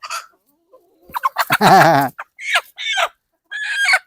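Chickens cluck and squawk loudly at close range in a string of short, separate calls broken by brief pauses, with one longer, drawn-out cry near the middle.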